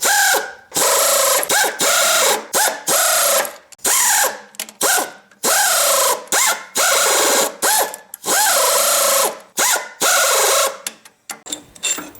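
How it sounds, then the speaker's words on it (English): Air ratchet loosening bolts while a Yates American B244 woodworking table is dismantled: repeated loud bursts of whirring, buzzing ratchet motor, each lasting a second or so with short gaps between, close up and with no talking. "I got an air ratchet going now."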